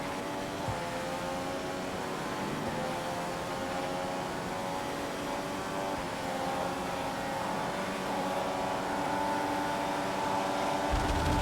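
A Formula One race car in F1 2015 roars down the main straight, its engine a steady high-pitched drone with rising harmonics that holds loud and close throughout, pitch climbing slowly as it accelerates.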